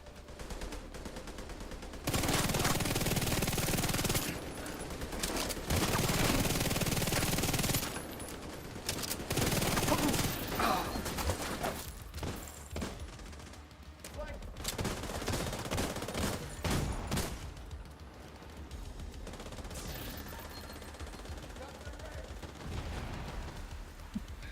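Sustained automatic gunfire in The Division comes in several long bursts separated by short pauses, loud and dense, with scattered single shots and softer firing trailing off later.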